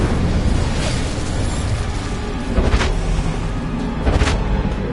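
Hogwarts Legacy Incendio fire spell: a steady roaring whoosh of flame with two sharp bursting flares that flare up and fade, loud and close, with no talk.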